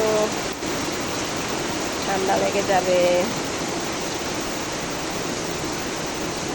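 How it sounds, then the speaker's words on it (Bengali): Torrential monsoon rain pours down in Bangladesh, a thick, unbroken roar of water that fills the whole scene at constant loudness, close and heavy, while a voice speaks briefly partway through. "একদম মুষলধারে বৃষ্টি, শুধু পানি আর পানি পড়তেছে"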